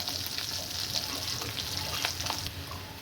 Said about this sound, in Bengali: আমি একটু রসুন দিয়ে দিলাম,